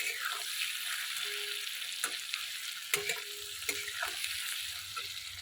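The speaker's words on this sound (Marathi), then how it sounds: "कांदा टोमॅटो मिरची हे बघा असं ना परतून घ्यायला लागली" Spices, chopped onion, tomato and chili sautéed in a pan, a soft continuous sizzle broken by occasional clinks and scrapes of a spoon against the pan, heard fairly quietly with no talking.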